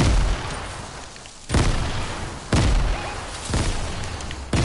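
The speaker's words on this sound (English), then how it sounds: "Oh no, he throwing nades!" Grenades exploding in a video game: a series of loud booming blasts, each a sudden broadband burst at roughly one-second intervals, over continuous noisy in-game background.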